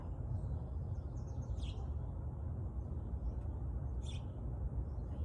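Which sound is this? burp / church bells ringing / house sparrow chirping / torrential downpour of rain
house sparrow chirping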